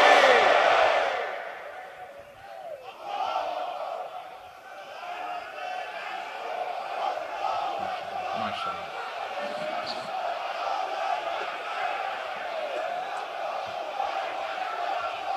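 A large crowd at a Bengali Islamic waz sermon by Mizanur Rahman Azhari chants the takbir, Allahu Akbar, in a loud roar that swells at first and then settles into a sustained collective chant.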